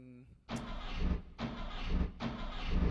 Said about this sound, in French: On va démarrer l'autobus comme ça.